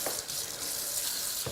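Water pours into biscuit dough in a home kitchen, a soft, steady splashing stream that stays fairly faint throughout.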